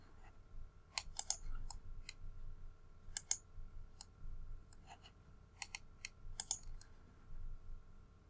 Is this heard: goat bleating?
no